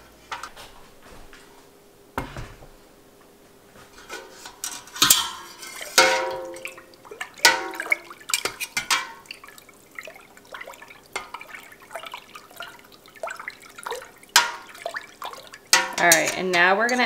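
A pot of milk heated for mozzarella is lifted off a stovetop burner, with scattered metallic clanks and scrapes of cookware over a quiet kitchen, louder knocks toward the end.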